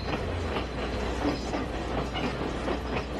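A scenic mountain train from Kandy to Ella in Sri Lanka running on the tracks, a continuous loud rumble with faint clickety-clack beats, heard from on board.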